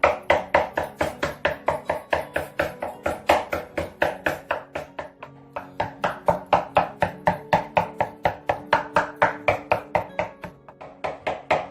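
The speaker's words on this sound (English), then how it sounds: "So after a while, chopping all the meat, all the water will be absorbing in." Raw meat is chopped with a knife on a board during a Chinese New Year cooking demonstration. A fast, even, close-up rhythm of sharp thuds runs without pause, with only a brief slowdown midway.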